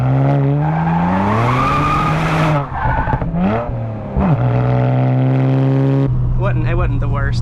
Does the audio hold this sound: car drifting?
yes